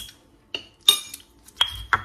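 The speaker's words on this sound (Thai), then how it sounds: "คลุกๆตำให้เข้ากันนะคะต้องให้ละเอียดมากนะคะมะขามป้อม" Several sharp, isolated knocks and clinks from a mortar and pestle pounding shrimp paste chili dip with Indian gooseberry, about five hits spaced unevenly over two seconds.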